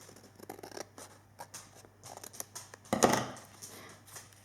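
Scissors snip quietly at the excess of a toilet paper roll, giving a quick run of small, close, crisp cuts with one louder snip near the end. Nobody talks.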